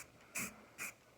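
Spray can misting primer onto an object in two short, gentle hissing bursts with a pause between, close and fairly quiet.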